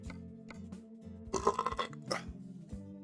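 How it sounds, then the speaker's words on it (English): A burp picked up by a microphone during a Euro Truck Simulator 2 play session, a single gurgling belch burst rising out of low engine-like hum, fairly close and moderately loud. "normally my burps don't catch on my mic, so I apologize for that"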